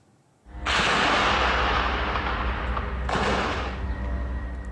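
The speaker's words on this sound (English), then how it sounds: "gunfire could be heard well into the day" A loud burst of gunfire or explosive blasts during a military raid, a sharp onset followed by a sustained rumbling roar and a second blast a few seconds later.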